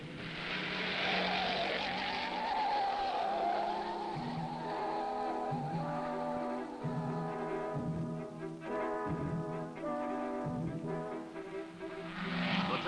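Vintage race cars making practice runs at the 1961 Indianapolis 500, engines droning and rising in pitch as they pass, loud and sustained with fluctuating revs and some tire noise.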